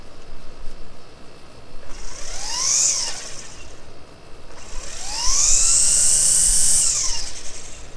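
A Ryobi 18V battery string trimmer on its high setting spins up twice, close by, its whine rising and holding for a second or two, then a longer sustained run that winds down.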